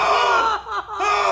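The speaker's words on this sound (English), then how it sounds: "Stop screaming." A group of people screaming and yelling together at close range, a loud sustained burst with a brief dip midway before the shouting surges again.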